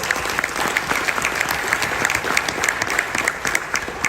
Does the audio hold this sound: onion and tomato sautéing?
no